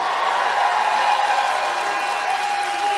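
A large crowd at a Michigan Trump rally keeps up steady applause. The roar of clapping is continuous and fairly loud, with faint voices blended in.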